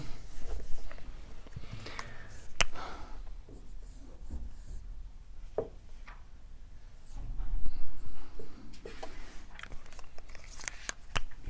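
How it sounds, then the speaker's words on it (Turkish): Chalk or marker scrapes steadily across a board during a lesson, with continuous close scratchy strokes and short pauses between words and lines. "Dur şunu da şu yukarı yazayım."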